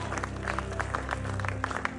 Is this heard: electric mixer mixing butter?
no